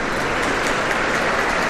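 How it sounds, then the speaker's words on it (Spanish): Spectators at a pelota match in a frontón during the 2021 world cup, Spain A against France A, clap loudly and continuously, a dense unbroken roar of applause filling the space. "Un aplauso sinceramente"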